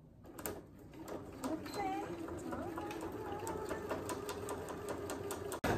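A sewing machine stitches through thick Velcro on a dog coat, with a steady close whir that runs almost without a break for several seconds and stops sharply just before the end.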